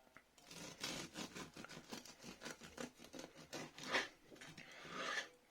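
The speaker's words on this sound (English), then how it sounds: "Now let's cut some slices for dinner." Serrated bread knife sawing through a still-warm sourdough loaf, making repeated rasping back-and-forth strokes close up, steady and rhythmic, with no talking.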